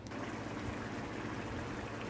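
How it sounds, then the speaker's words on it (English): A pot of Jamaican-style brown stew kidney bubbles on the stove, a soft, steady simmering hiss and gurgle that stays even and fairly faint throughout, with no voices. "the pot is bubbling"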